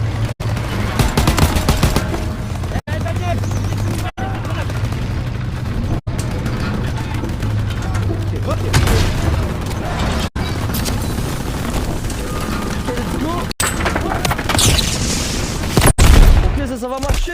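Call of Duty WW2 combat: loud, dense bursts of gunfire and booming explosions roll almost without pause, broken only by a few short cuts of silence.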